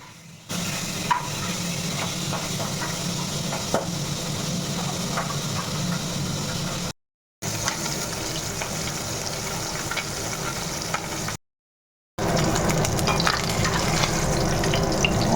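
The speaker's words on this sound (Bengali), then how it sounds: "আমি বসিয়েছি কড়াইতে তেল আর সেই মাছ যদি তেলের মধ্যে দেওয়া যায় পটাশ পটাশ করে ফাটছে" Fish frying in hot oil in a wok, with a steady close sizzle and scattered sharp pops and crackles throughout, broken by two brief silent gaps.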